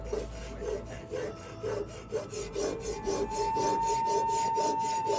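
A Japanese sword blade is sharpened with steady rhythmic strokes, a repeated close rubbing rasp of metal on stone, continuous and alone.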